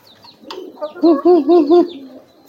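A pigeon courting a female gives a short series of rhythmic, rising-falling coos, close and clear, with faint background sounds before it.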